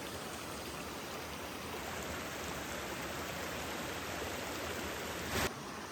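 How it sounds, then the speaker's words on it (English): A woodland waterfall rushes as a steady broadband hiss, continuous and fairly distant, with a brief knock near the end. "Ooh, another waterfall."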